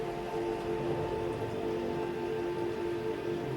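Soft, steady rainfall used as a sound effect in a radio play adaptation of Dostoevsky's White Nights, a faint continuous hiss under a sustained low musical drone, with no voices.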